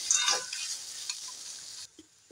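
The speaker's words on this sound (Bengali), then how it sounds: "বাদামটাকে দিয়ে ভালো করে নাড়াচাড়া করতে থাকবো।" Peanuts stirred through hot oil in a pan while making carrot vegetable chops give a loud, close, steady sizzle with scraping, which cuts off sharply near the end, leaving near silence.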